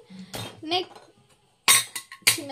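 Miniature toy kitchen utensils, small bowls, a small kadai, a dinner set and glasses clink together in quick bright bursts, close by, with a voice talking between the clinks.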